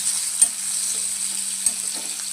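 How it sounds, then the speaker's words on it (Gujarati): Stuffed okra tempering in a hot pan gives a steady, close sizzle with two brief utensil taps, and no voices. "સરસ મજાનો ભરેલો ભીંડો વઘારાઈ ગયો."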